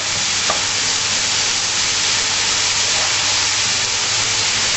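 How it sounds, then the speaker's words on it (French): Onions being stirred in a hot pan with a little sugar as they caramelize, a steady close sizzle and hiss running throughout with faint scraping, no voices. "je mets un peu de sucre et je vais pouvoir les caraméliser. Donc là je remélange bien"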